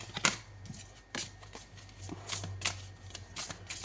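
Tarot cards being shuffled by hand in a series of soft, papery riffling bursts, close up and fairly quiet, with brief pauses between handfuls and a low background hum.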